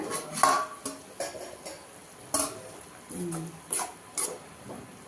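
Metal clinks of a lid and utensil against a pot of cooking bitter gourd, followed by scraping stirring strokes, close up and fairly quiet.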